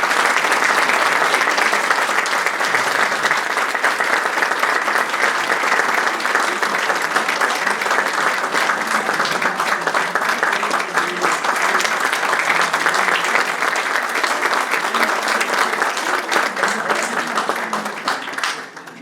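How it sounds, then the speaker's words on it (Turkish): A concert audience at a Turkish music performance applauds steadily and loudly for a conductor coming on stage, dense clapping sustained throughout before tapering off at the end. "coşkulu alkışlarla sahneye davet ediyoruz"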